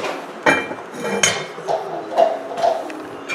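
A metal lid set onto a pan of sizzling burgers on low heat, giving a few sharp clinks and clanks spaced over a couple of seconds against a soft background sizzle.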